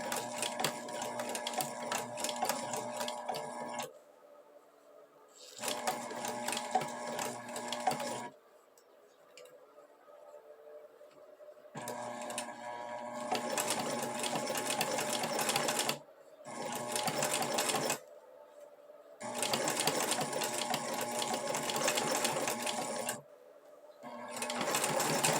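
A sewing machine stitches a seam in several loud, rapid bursts separated by short pauses, with the needle's fast mechanical chatter close and clear and no talking.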